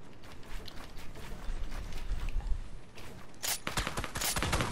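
Rapid gunfire in the video game Fortnite, bursts of quick shots at moderate distance with mechanical clicks, growing denser toward the end, no talk.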